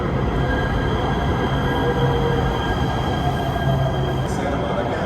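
An LA Metro train pulls into a downtown station on the Regional Connector line, a steady loud rumble of wheels and motors with a faint squeal. The train noise continues evenly throughout.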